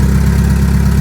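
An AWD Eagle Talon engine idles with no exhaust fitted, a loud, close, steady low rumble that holds even for a second.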